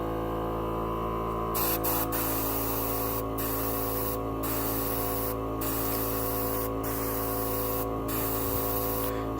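A dual-action airbrush sprays paint onto an Exia Gundam model kit, giving a steady hissing spray over a constant hum. Short pauses in the spray break the hiss several times, and no one speaks.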